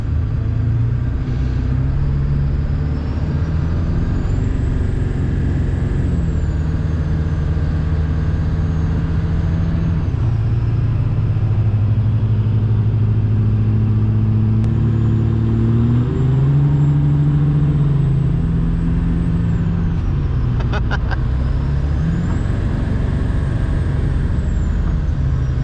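A Cummins diesel pickup truck drives along with a deep, steady engine rumble, its pitch rising and falling as it revs through gears, loud and continuous throughout with road noise and no voices.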